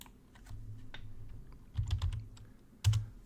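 Someone types on a computer keyboard: scattered soft key clicks over a low background hum, with two heavier clusters of keystrokes, fairly close and alone without talk.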